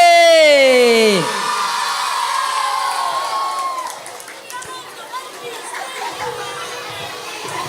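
Children shout and cheer loudly for class 6C at a school nasyid contest held for a Maulid Nabi event, a falling whoop opening a sustained crowd roar that thins into chatter and scattered calls.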